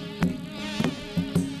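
A thin insect drone like a mosquito hums steadily, broken by a few soft rhythmic knocks, moderately close with no voices, on a Hindi comedy stage show.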